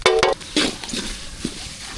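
Close, sharp scraping and clinking of a utensil stirring chilli powder and turmeric in hot oil in a pan, with a few short bursts of sizzle, no talking.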